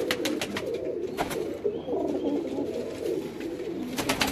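Pigeons cooing steadily at a Multan pigeon keeper's loft, a continuous close murmur of overlapping coos with no talk.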